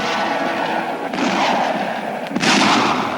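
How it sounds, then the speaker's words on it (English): Mortars open fire in a jungle battle during the assault on Salamaua, with heavy booming blasts and rumbling reports, a sharp burst near the middle and another loud blast toward the end, nearby and forceful over constant background noise. "The mortars open up."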